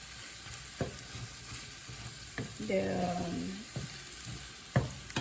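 Frozen bitter gourd and egg are stirred in a frying pan, giving a soft, steady sizzle broken by several sharp utensil knocks against the pan.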